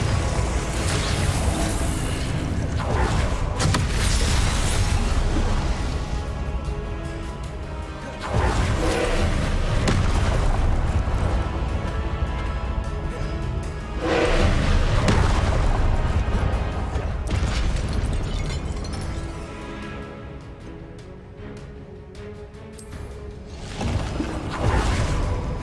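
Spells cast with explosions in Hogwarts Legacy's first Ancient Magic trial, heard as repeated whooshes, crashes and booming impacts in waves over a continuous loud rumble, with no one talking.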